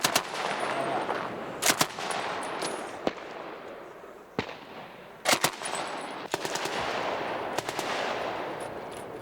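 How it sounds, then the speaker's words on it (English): Soldiers firing blank rounds, with sharp scattered gunshots and short rapid bursts cracking out at irregular intervals over an outdoor wash of background noise. "The men are only firing blanks, but their surprise has worked."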